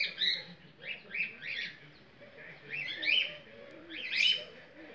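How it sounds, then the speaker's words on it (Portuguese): Soft, repeated high-pitched chirping calls from fantail pigeons come in short bursts, quiet and fairly close, with no talking. "Acho que está escutando os outros pombos lá."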